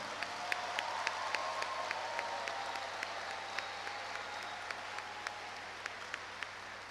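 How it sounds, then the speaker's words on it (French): A graduation ceremony audience applauds its graduates with sustained, even clapping that sounds somewhat distant and moderately quiet, with a few sharper individual claps standing out across the whole stretch. "applaudissons-les"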